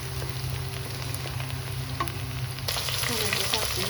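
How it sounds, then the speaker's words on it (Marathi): Tomatoes fry with onion in a pan in a steady, close sizzle, stirred now and then, with the crackle growing louder toward the end. "आता आपण ह्याच्यात टोमॅटो टाकून घेऊ."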